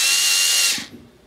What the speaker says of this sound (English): I'm just gonna give it a little tension so that this sanding disc, which is what you use on composite leaf, will